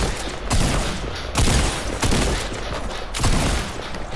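Gunfire in Fortnite comes in several loud, close bursts at roughly one-second intervals, each crack trailing into a rough rumble, with no speech heard.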